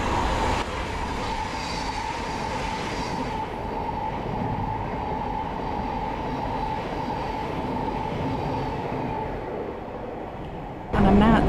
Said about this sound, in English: Wait for a train.